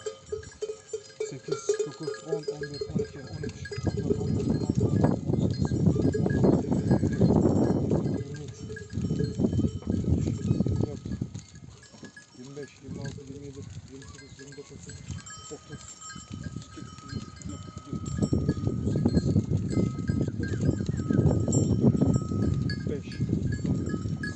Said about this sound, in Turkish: Evet arkadaşlar keçilerimiz geldi.